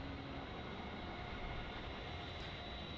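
An Air China A350-900 airliner taking off from runway 34 at Melbourne Airport, a steady broad engine roar with a constant rumble, heard from a distance without speech.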